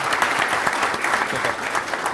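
Audience applause for a deputy arriving at a parliamentary hearing, a steady dense patter of many hands clapping throughout, fairly loud, with no voices over it.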